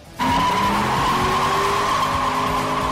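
A naturally aspirated Shelby Mustang GT with ceramic brake pads brakes hard, its tires letting out a loud sustained squeal that starts abruptly and holds for a few seconds, up close.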